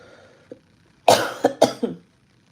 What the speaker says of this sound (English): I feel like a cough attack coming.